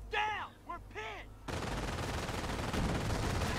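Gunfire rakes an anti-tank gun in a real-time strategy video game, a sustained dense rattle of rapid shots that starts abruptly after a few tonal game sounds and continues loud and steady.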